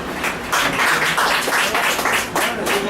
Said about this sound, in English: clapping, no clapping